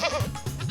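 A cartoon goat bleats loudly in a single short, wavering cry, close and prominent with no talking over it.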